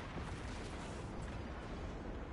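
Explosions rumble through a Destiny 2: Lightfall gameplay sequence, a dense, continuous roar of blasts and booms that stays loud and steady throughout.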